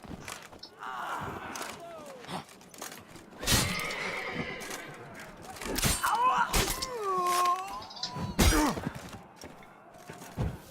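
Several horses neigh and whinny in wavering cries in The Witcher 3: Wild Hunt, mixed with hoof clops, thuds and a crash, loud and close, with occasional bursts of noise.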